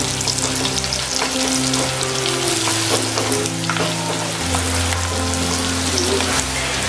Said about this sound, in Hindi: इन्हें भी हम 2 मिनट फ्राई करेंगे